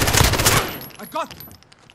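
Rapid automatic gunfire rattles in a loud close burst in the video game Modern Warfare 2019, then cuts off as a brief voice follows.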